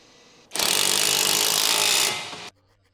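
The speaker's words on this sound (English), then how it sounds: "Use the 18mm deep socket with the electric impact to tighten the nut." An electric impact wrench with an 18mm deep socket hammers a strut nut tight on a 2012-2016 Chevrolet Cruze FWD, giving one loud, continuous rattling burst of about two seconds that cuts off abruptly.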